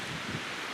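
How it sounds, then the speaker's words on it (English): Steady wind rushes and buffets the microphone outdoors beside the East Fork River, a continuous broadband roar that stays even and fairly loud for the whole moment, with no voices. "I'll wait till this wind stops"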